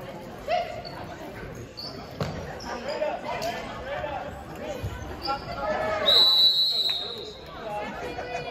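A basketball bounces at a jump ball in a video game, with intermittent dull thumps over steady arena crowd chatter and the game's background noise.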